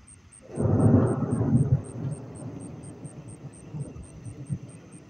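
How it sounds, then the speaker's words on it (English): Heavy thunder during an electrical storm rolls in as a loud low rumble, then fades into a long, uneven distant grumble with a steady high-pitched whine above it. "heavy thunder."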